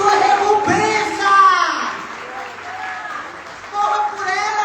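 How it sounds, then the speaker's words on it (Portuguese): A church congregation applauds during a Portuguese-language sermon, with the clapping forming a dense wash beneath a woman preacher's continuing voice. "Aplauda Jesus."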